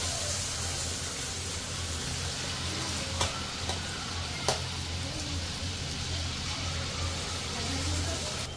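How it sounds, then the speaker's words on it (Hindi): Dhuska batter drops into hot oil in a kadhai over a high flame and fries with a steady broad sizzle, two brief sharp clinks of a utensil near the middle, and a faint low hum underneath. "कढईमधलं तेल तापलेलं आहे आपलं। आता आपण बॅटर सोडून घेऊयात।"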